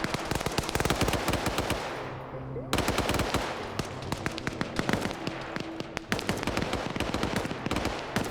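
Rapid bursts of gunfire in a tactical shooter game, a marksman rifle among them, crackle continuously with dense sharp shots and brief pauses, loud and close with faint voices underneath.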